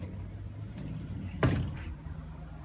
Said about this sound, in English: Let me go ahead and close this door.